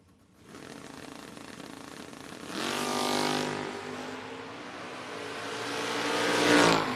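A Vega and a Mustang drag racing cars launch down the strip after near silence, engines swelling into a rising roar that builds again toward a loud peak near the end.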